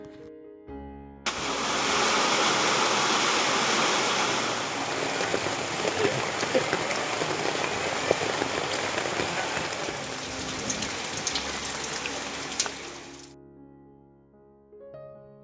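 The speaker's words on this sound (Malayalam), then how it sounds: "വൈകുന്നേരം ആയപ്പോഴത്തേക്കും നല്ല മഴ." Heavy evening rain pours down steadily, a dense, loud hiss of drops drumming on surfaces that starts abruptly, holds for about twelve seconds, then fades out.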